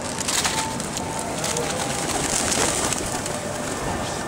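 A flock of pigeons with a black cat creeping toward them: busy, fairly loud cooing and wing flutters under constant outdoor background noise, with scattered rustles and knocks throughout.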